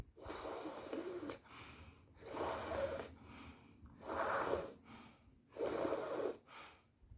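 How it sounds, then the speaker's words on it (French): Sheetkari cooling breath drawn in through the teeth: four long, loud hissing inhales, each about a second, spaced by quieter exhales in a steady slow rhythm, close and alone with no talk. "avec la respiration Shitkari, nous allons faire également une respiration rafraîchissante"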